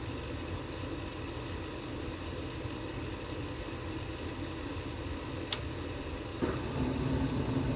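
A gas furnace's blower fan runs as a steady broadband hum throughout, with a faint tick near the end followed by a soft whoosh as the burners ignite and the hum grows slightly fuller.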